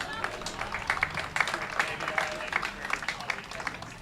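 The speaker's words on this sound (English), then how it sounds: "Let's give her a round of applause." Scattered applause from a crowd at a Newport Gulls versus New Bedford Bay Sox baseball game, thin and fairly distant, with individual claps standing out and a public-address voice in the background.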